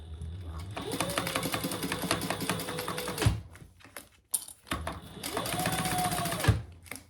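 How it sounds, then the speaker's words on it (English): Sewing machine top stitching a crossbody bag, running in two steady bursts of rapid mechanical stitching, each about three seconds, with a brief pause and handling between them; loud and close, no talk. "let's top stitch that."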